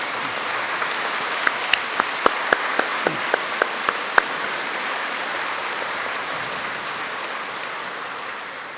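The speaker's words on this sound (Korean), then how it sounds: "박수 한번 쳐주시죠." A church congregation at a Sunday service in Seoul's Anglican cathedral applauds with a sustained, dense round of clapping, some individual claps standing out, tapering off at the end.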